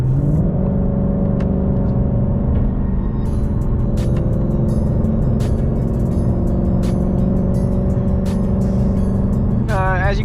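Steady in-cabin road and engine hum from a 2020 Mustang GT Premium with PP cruising at highway speed, an even low rumble with no booming drone, a few faint clicks above and a brief voice near the end.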